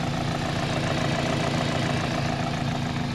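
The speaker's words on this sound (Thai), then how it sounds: "มาดูครับมาฟังเสียงเครื่องครับ" Engine of a 2004 Toyota Corolla Altis with automatic transmission, idling at a steady, even hum with a constant low rumble, close up and uninterrupted, no voices.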